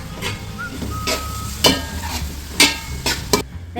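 Sliced onions frying in oil in a pan, a close, steady sizzle broken by several sharp scraping stirs of a utensil, with no voices.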